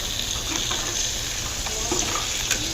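Khoa (milk solids) frying in melted ghee in a kadhai, a steady soft sizzle with faint scraping clicks throughout, fairly close and without voices.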